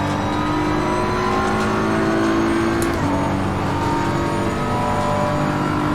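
A front-engined racing car in a video game drones at high revs with a steady, buzzing tone through a chicane, dipping briefly mid-way as if shifting gear, then pulling on again.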